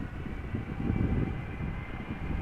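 Jet airliner at Amsterdam airport taking off from the runway, a steady broadband engine roar heard from a distance, continuous and fairly even throughout with no talk.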